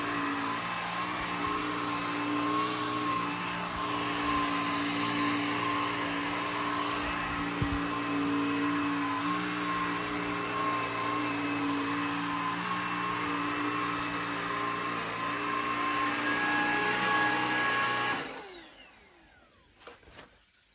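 A Shark Stratos Pet Pro cordless vacuum cleaner runs with a loud, steady whine and hum for about eighteen seconds, then powers down and leaves near silence; no one speaks.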